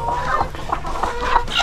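Hens clucking on a homestead with over 200 chickens, close and fairly loud, a series of short overlapping clucks and croaks in irregular rhythm with no talking.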